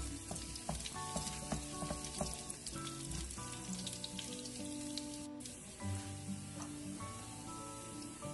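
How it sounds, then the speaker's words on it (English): Garlic sautéing in a pan with a steady sizzle and a dense crackle of frying, with scraping clicks from stirring throughout. "And I always saute the garlic first, always. We just stir that until it's brown."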